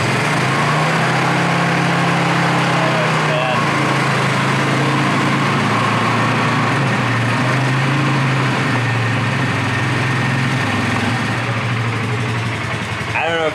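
A vehicle's faulty driveline while driving, a continuous rough growling and rattly drone with engine hum, loud and close inside the cabin, with a voice speaking briefly over it.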